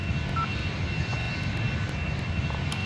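Airbus A330 jet engines at takeoff, a steady broad roar held at a distance throughout with little change in level and no talk.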